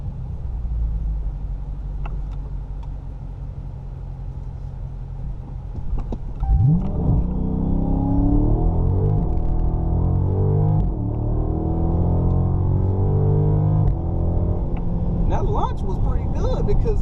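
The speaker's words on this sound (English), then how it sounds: "I'm gonna try to see if I can launch it real quick" A Dodge Charger SRT sits idling with a steady low rumble, then launches hard from a standstill around the midpoint, engine roar climbing through rising revs and gear changes, loud and close from inside the car.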